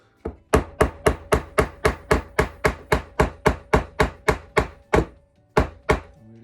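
Close, loud hammer blows drive a fret into a guitar neck, about sixteen evenly spaced knocks in a steady rhythm that slows slightly toward the end.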